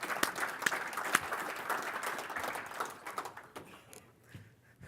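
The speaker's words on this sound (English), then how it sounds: "Give them a round of applause" At a Planting for Profit farm meeting, an audience gives a faint, distant round of applause for the volunteers. The clapping is soft and scattered and thins out toward the end.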